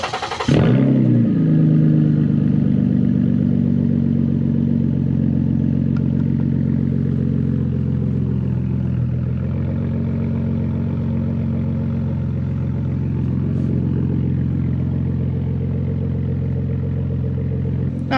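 A Ford Taurus SHO with a muffler delete does a warm start: a quick crank and catch, then a steady, mellow, low rumbling idle that holds evenly and close up for the rest of the clip.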